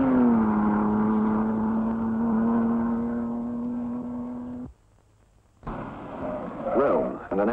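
Racing cars in the 1953 Mille Miglia, among them an Alfa Romeo saloon of the 2-litre touring class, drone loudly with a steady engine note, break off briefly, then return with revving.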